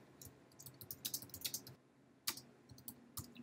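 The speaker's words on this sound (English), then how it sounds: "I'm gonna type H2 tab" Quick bursts of computer keyboard typing sound close and crisp while HTML code is entered in Dreamweaver, with clustered clicks, a brief pause, then a few more keystrokes.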